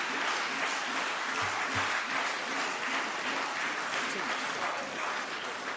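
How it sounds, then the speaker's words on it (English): A parliament chamber fills with sustained, dense applause, steady and continuous throughout, with a couple of low thuds partway through. "indulging that level of clapping does not impress anybody"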